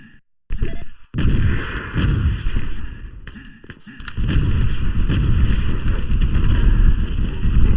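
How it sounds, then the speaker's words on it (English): Rocket blasts and weapon fire in the arena shooter Open Arena during a competitive duel, heavy booming explosions that cut in loud and nearly continuous, with a brief gap before a long sustained barrage. "And a good rocket to finish off Wacky again."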